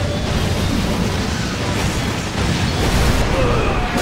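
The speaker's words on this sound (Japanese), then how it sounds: "引火爆発を起こすんじゃねえか" Ignition explosion in Resident Evil 6, a loud, sustained roaring blast with rumbling debris filling the whole stretch, steady and close without clear breaks.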